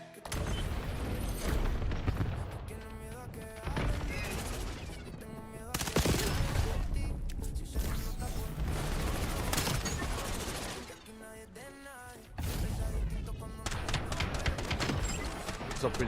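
Repeated bursts of gunfire and scattered shots in a Call of Duty multiplayer match, coming in uneven volleys with short lulls, mixed with other game noise and people talking.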